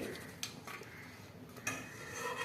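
Spiced puffed-rice chivda is stirred and tossed in a bowl, giving a faint, dry rustle with a couple of soft clinks against the dish.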